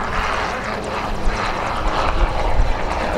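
Helicopter, an H135 flying at the Cholet air show, its engine and rotor giving a loud steady whine with rhythmic blade thumping that swells slightly toward the end, heard alone and close.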